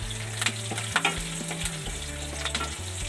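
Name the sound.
mustard seeds and cumin crackling in hot pan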